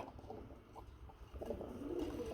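Soft, low pigeon coos from a male and female pair repeat close by over a quiet background hum.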